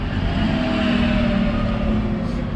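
A 2002 (52 plate) Mini with 129,000 miles and a blown head gasket idles close by, a steady unbroken low engine drone that holds at one level throughout.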